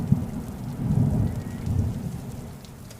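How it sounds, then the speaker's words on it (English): Heavy rain lashes down as thunder rolls in low swelling rumbles that peak twice and then fade, steady and fairly close, with no voices. "At the docks, the wind and rain was lashing down on Cranky."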